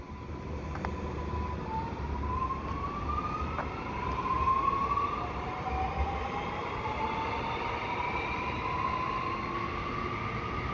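An REM light metro train pulls into Deux Montagnes station, its rising electric motor whine and rolling rumble building gradually at moderate distance with no talk.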